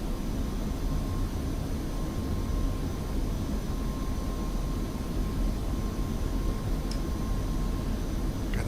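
A heavily loaded F-5 jet in the DCS flight simulator roars steadily on its takeoff run, a constant broadband engine rush with a faint whine, continuous and loud with no talking.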